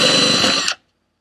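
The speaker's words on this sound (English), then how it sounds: "I've drilled all the way through my base and made a mess." A power drill fitted with a paddle bit whirs steadily through a wooden base for under a second, loud and close, then cuts off abruptly into silence.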